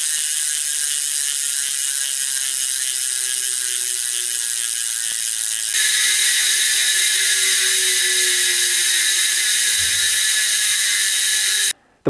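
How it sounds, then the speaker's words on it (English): Hope Pro5 bicycle freehub ratchet clicking close up as a fast, steady buzz of pawl clicks that runs unbroken for about twelve seconds, heard alone, then stops abruptly. "The freehubs have noticeably less drag than their predecessors and still sound amazing"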